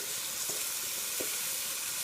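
Rice sautéing in a hot tarka for peas pulao, a steady close sizzle with a couple of soft stirring scrapes, no voices.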